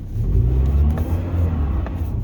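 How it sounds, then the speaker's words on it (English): A car's engine hums and revs low and close as it backs out of a home driveway, a steady rumble with slight rises in pitch over about two seconds. "put my car in reverse"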